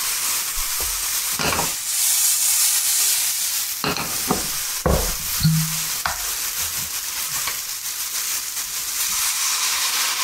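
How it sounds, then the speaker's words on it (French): Port wine hits a hot frying pan, raising a loud steady sizzle and steamy hiss, with a few scrapes and knocks of a utensil against the pan and no talking. "Allez, on va déglacer avec un petit peu de Porto."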